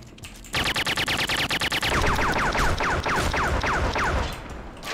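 Loud rapid automatic gunfire in the action video game John Wick Simulator, a tight string of evenly spaced shots followed by a continuing barrage with sweeping, falling tones.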